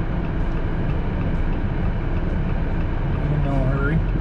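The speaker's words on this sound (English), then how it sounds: "We have trains here." A train passes near a car crossing a river during winter storm driving, heard as a loud, steady rumble with a faint horn-like tone near the end and people talking over it.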